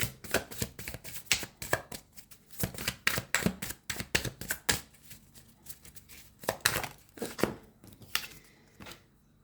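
Tarot cards being shuffled by hand, a quick run of crisp riffling and slapping bursts in an irregular rhythm, close and fairly quiet.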